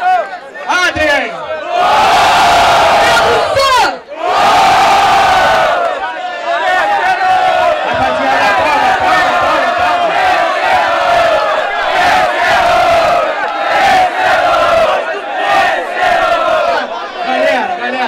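A large crowd at a freestyle rap battle cheers and shouts loudly and continuously. The roar swells in two big surges early on and stays dense throughout, with an MC's amplified voice mixed in.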